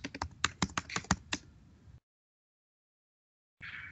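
Rapid keystrokes on a computer keyboard as a git command is entered, about a dozen close, crisp clicks in quick rhythm, then silence and a faint return of room sound.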